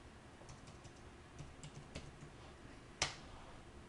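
Quiet, scattered key presses on a computer keyboard while a password is entered during a Hadoop SSH server setup, a few soft taps followed by one sharper keystroke near the end.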